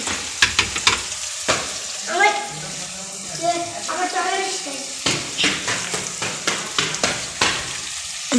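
Masala stir-fries in a pan in a home kitchen, with sizzling and repeated scraping stirs. Clattering utensils and running water mix in, and a voice speaks faintly in the background.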